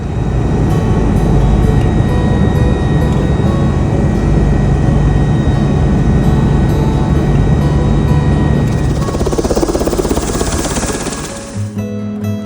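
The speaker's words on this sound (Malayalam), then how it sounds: "അങ്ങനെ നമ്മളെ ഹെലികോപ്റ്റർ ഇവിടെ സ്നോ മൗണ്ടെയിനിൽ ലാൻഡ് ചെയ്തു" A helicopter sets down on a snow-covered mountain near Mt. Cook in New Zealand, its loud, steady rotor and engine roar filling the whole stretch before easing off abruptly near the end as the craft settles.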